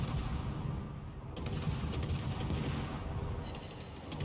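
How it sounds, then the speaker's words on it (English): Naval gunfire in World of Warships, a dense rumbling barrage of low booms with several sharper cracking reports, continuous and loud, no talk. "Get some good hits by my team on the Petro, followed by me doing some atrocious shooting"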